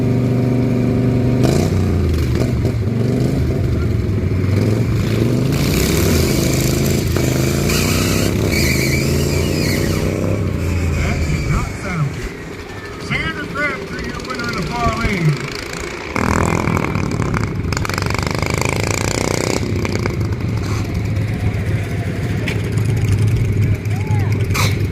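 Dragster racing down a drag strip, stuck unable to clutch into third gear: a loud, continuous engine roar with shifting pitch and a rough dip midway, accompanied by a talking voice throughout.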